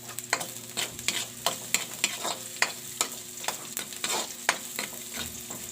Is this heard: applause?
no